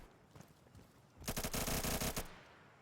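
A rapid burst of automatic gunfire from a competitive video game match, loud and sustained for about a second after a quieter lead-in, with no flashbang clearly standing out.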